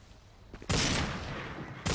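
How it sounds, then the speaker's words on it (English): Gunfire in GTA 5 erupts suddenly as a loud, dense burst of shots that sustains, then a second blast hits at the end. The opening is quiet, with no talking. "Really? Fucking shooting at me?"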